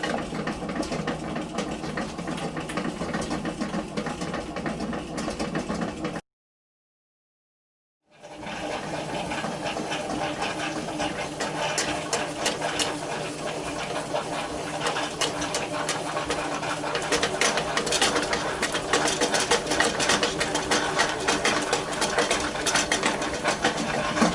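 A home bread machine's motor runs steadily while kneading dough, a continuous mechanical whir with rhythmic churning that cuts out briefly for about two seconds, then resumes and grows slightly louder toward the end.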